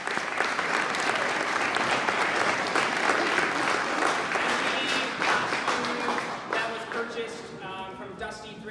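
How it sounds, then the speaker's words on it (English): Audience applause at a junior theatre production of Annie, loud sustained clapping from a large crowd that thins out near the end as a voice begins speaking over it. "I think you deserve a round of applause as well."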